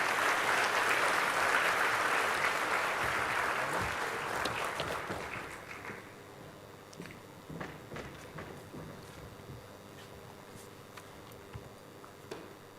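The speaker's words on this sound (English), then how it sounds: "Ladies and gentlemen, once again, put your hands together for the Chair." Audience applause at a closing ceremony of an international conference, a dense burst of clapping from a large hall that fades over about six seconds into a few scattered claps and footsteps.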